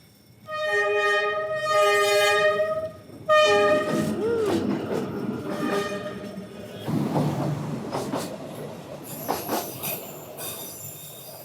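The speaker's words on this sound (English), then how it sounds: "Oh, a train's coming." A train rolls past close by on a morning ride through Hanoi, its horn blaring in long blasts, then wheels squealing and rattling along the track as it fades.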